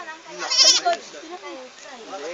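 A fat goat bleating, one loud wavering cry close by, with a person talking at the same time.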